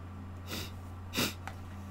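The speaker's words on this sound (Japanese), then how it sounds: "めっちゃくしゃみ出る。" Someone sneezing, two short breathy sneeze bursts close to the microphone over a low steady electrical hum, with a faint click after the second.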